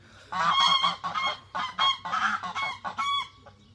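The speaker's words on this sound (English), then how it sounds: "Apologies for the geese." A flock of geese honking loudly and repeatedly nearby, overlapping calls in bursts with brief gaps, no talking.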